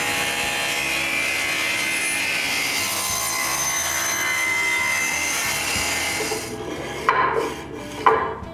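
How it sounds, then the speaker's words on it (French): A hand saw cuts a rabbet in wood with a steady, continuous rasping stroke sound that breaks near the end into a few short, separate pushes. "je dois couper une feuillure de chaque côté"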